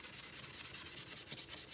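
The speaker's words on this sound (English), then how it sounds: "So I'm going to take that sanding block, and I do want to go side to side." A sanding block rubs side to side over painted wood in quick, even strokes, a close and rhythmic scratchy swish with no voices.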